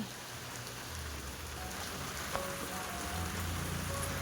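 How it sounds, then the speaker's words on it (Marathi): Steady monsoon rain falling on surfaces, a dense continuous patter at an even level, with no voices. "आज इकडे पाऊस सुरू झाला आहे"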